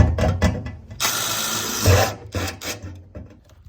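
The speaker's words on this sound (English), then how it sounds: "we're gonna drill through that hole to pass the wires through the bottom" A power drill whirs loudly for about a second as it bores through a plastic car panel for wiring, surrounded by close handling knocks and rattles.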